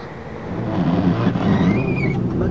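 A car ride through a small town near Salinas, Ecuador, with a steady engine drone and road rumble from inside the vehicle, rising slightly as it moves along.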